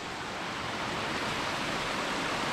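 A small waterfall along a hillside path near Edzell, Scotland, giving a steady, broadband rush of falling water that stays even and fairly close throughout, with no voices.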